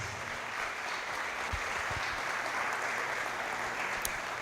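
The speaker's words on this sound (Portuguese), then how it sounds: "Aplaude ao Senhor." A church congregation applauds at the close of a service, with steady, dense clapping from many hands filling the room at an even level throughout.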